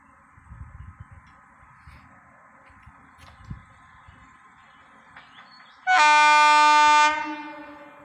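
A train rumbles along at a distance, then a very loud, sustained horn blast sounds for about a second before fading away.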